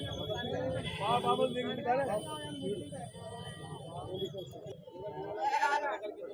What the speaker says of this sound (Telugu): పెద్ద సైజు పొట్టేళ్ళు ఉన్నాయి పెద్ద సైజు మేకపోతులు ఉన్నాయి